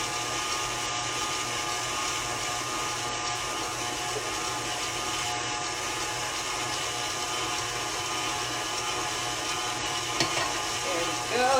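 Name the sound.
electric mixer whipping French meringue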